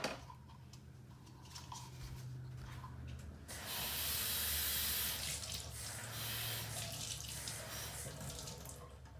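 A tap runs into a sink, starting with faint background hum and then a loud, steady hissing gush of water that continues to the end.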